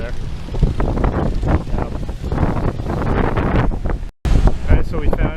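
Wind noise gusts steadily across the microphone on a cloudy, blustery day by Tower Bridge in London, a broad continuous rush with a brief dropout, while people talk over it.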